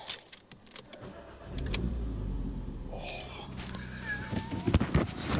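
A Seat Ibiza Cupra engine breathing through a newly fitted Milltek exhaust, running with a deep, steady low rumble that swells after a quiet start and holds close and fairly loud, with faint voices murmuring underneath.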